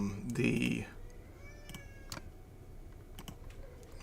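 A loud, drawn-out cat meow rings out near the start, followed by a few soft clicks and taps over a quiet background.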